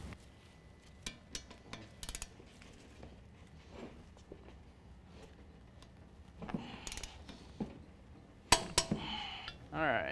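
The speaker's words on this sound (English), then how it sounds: "We're going to tighten these bolts to 133 foot-pounds." On a Chevy GMC 1500 getting a lift kit, wrench and ratchet work tightens the bolts: scattered metallic clicks and clanks, faint at first, then louder clatter near the end, with a voice talking in places.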